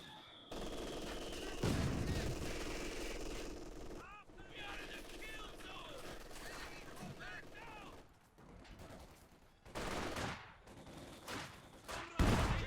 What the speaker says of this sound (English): Another grenade going off here.